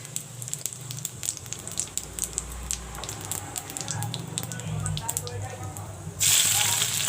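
Dry red chilies and cumin seeds sizzling in hot mustard oil in a pan, a steady close crackle with sharp pops, ending in a louder hissing burst near the end.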